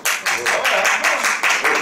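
Comedy show audience breaking into brisk applause, a dense burst of clapping in rapid pulses lasting a couple of seconds, close and fairly loud.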